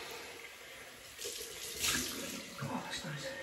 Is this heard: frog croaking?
no